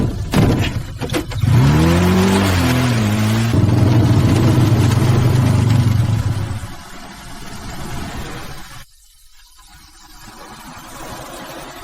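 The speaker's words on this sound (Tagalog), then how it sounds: "Sumakay ng tricycle, alis." Tricycle engine revving up and pulling away, loud and close at first with rising gear-shift tones, then fading into the distance as it drives off.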